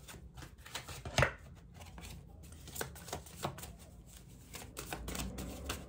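Tarot cards are shuffled and drawn at close range, with soft riffling and a string of quick flicks and taps, one sharper snap standing out, quiet and with no talk over it.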